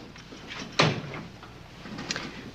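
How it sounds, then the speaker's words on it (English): An interior door is pushed shut with one sharp thud near the start, followed by quieter room noise. "Close the door."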